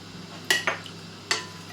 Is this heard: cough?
no